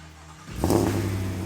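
A truck engine fitted with an aftermarket exhaust idles low, then abruptly revs up into a loud, throaty roar that holds steady.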